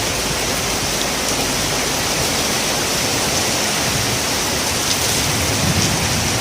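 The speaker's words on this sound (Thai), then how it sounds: "ตอนนี้ฝนเริ่ม โอ้หนักขึ้นหนักหนักขึ้นนะครับผม" Heavy rain pours down in a dense, constant roar of hiss, loud and unbroken, with no voices.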